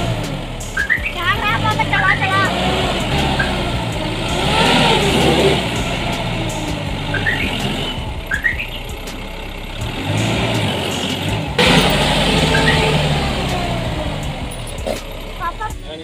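A vehicle sunk into soft ground with its wheel dug in strains its engine in long revving surges and idling stretches, loud and close, while people talk and call out over it.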